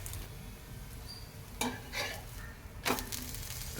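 Cassava (maravalli kizhangu) adai fries in a little oil in a pan, a steady soft sizzle broken by a few scraping stirs of a utensil against the metal.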